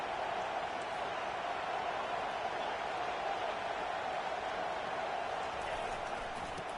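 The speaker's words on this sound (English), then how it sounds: "listen to this crowd noise" Dense roar of a packed stadium crowd at an American football game, a constant loud wash of cheering and noise holding steady throughout with no pauses.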